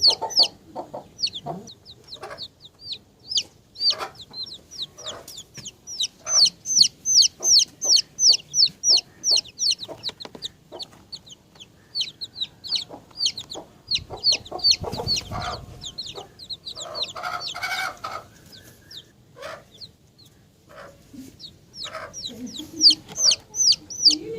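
Backyard hens cluck steadily and fairly close, with a quick rhythmic burst of clucking in the middle and a few brief rustles, no speech.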